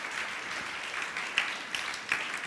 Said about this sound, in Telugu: నా మాట అర్థమైన వాళ్ళు ఒక్కసారి చప్పట్లు కొట్టారు.